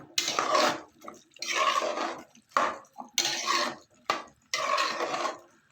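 Bitter gourd curry being stirred with water in a pan, giving five or six close, scraping bursts of mixing separated by short pauses, with no voices.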